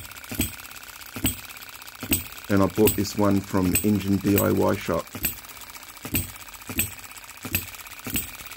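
A Baker Ball Top Monitor B01 hit-and-miss model engine runs with sharp, evenly spaced mechanical clicks about once a second, close by, while someone speaks over it for a few seconds.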